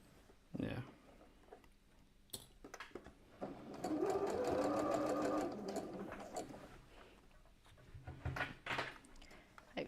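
A sewing machine stitches a shirt in one quiet, steady burst of rapid whirring lasting a couple of seconds, framed by soft handling clicks and fabric movement, with faint talk nearby.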